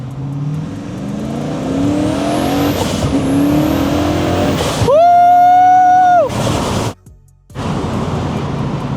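A cheap turbo V8 car accelerates hard in first gear, a loud roaring engine note rising sharply from inside the cabin, with a high whine near the top before a brief gear-change dip.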